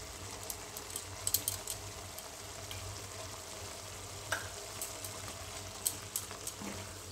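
Ghee sizzling in a pan while a radish curry with potatoes and peas cooks, a faint, steady hiss with scattered small pops and utensil clicks close by.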